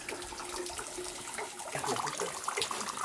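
Naturally filtered spring water at Ojo de Agua near Urique, Chihuahua, a source said never to dry out, flowing and splashing steadily at close range with a bright, continuous rushing texture and no talk.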